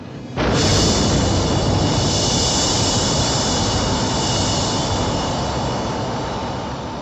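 An airplane engine in flight kicks in abruptly, then holds a loud, steady, broadband roar that fades slightly toward the end, with no voices.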